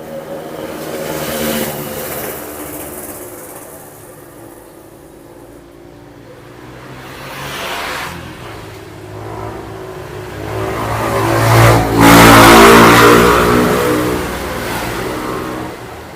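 A car on a road trip from Taliabu Island toward Luwuk Banggai in Central Sulawesi drives along with a steady engine note, easing off midway, then revving up louder before settling again.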